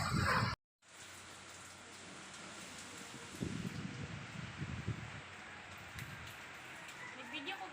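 Heavy rain with strong wind makes a steady broadband hiss and rush outdoors, with gusty swells partway through. It follows a brief loud burst and a moment of silence at the start, and no clear speech is heard.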